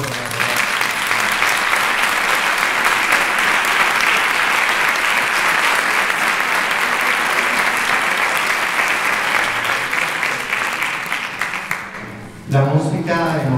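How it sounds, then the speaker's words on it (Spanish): An audience at a concert presentation gives loud, sustained applause, a thick wash of many hands clapping for about twelve seconds before it fades, followed by a voice beginning to speak. "les deberíamos de dar un fuerte aplauso"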